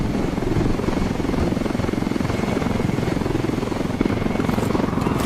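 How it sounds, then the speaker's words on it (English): A helicopter in the video game Ghost Recon Wildlands drones steadily throughout, a loud, close rotor chop and engine roar holding constant with no talk. "Weaver, Nomad and Holt are base jumping from the helicopter."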